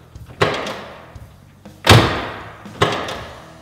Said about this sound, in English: The door opens beautifully.